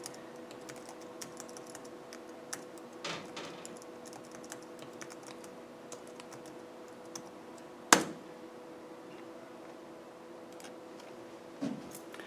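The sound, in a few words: typing on computer keyboard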